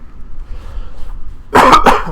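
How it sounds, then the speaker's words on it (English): A man coughs twice in quick succession during a casual podcast recording, the coughs close to the microphone and loud after a quiet stretch of room noise. "I keep coughing"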